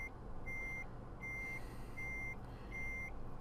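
Reversing beeps from a Mercedes Actros truck in Euro Truck Simulator 2: four evenly spaced, steady electronic tones over a low engine rumble.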